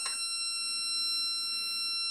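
A steady, high-pitched electronic buzz with a bright, harmonic-rich edge: a rectangle-wave tone from a 555 timer astable circuit played through a speaker, holding continuously at an even level with no pauses or talking.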